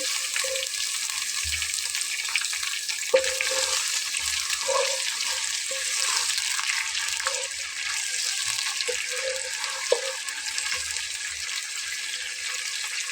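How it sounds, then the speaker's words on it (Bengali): Onions frying in a pan for a special meat curry, a steady broadband sizzle running throughout, with occasional soft clicks of a spoon stirring against the pan, close and even, no voices. "পেঁয়াজটাকে হালকা একটু নেড়ে ছেড়ে 5 মিনিটের মতো করে একটু ভেজে নিয়ে"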